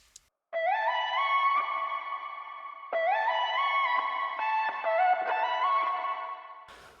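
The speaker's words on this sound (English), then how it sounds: "to make sure that the reverb is being controlled and that it's like even bigger when the reverb is getting released after the sound has been played" A processed vocal chop sounds in two sustained, pitched phrases, with a big compressed reverb tail washing out behind each note, clean and alone in the mix.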